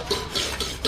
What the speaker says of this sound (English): And then with the sandstone, we smooth it.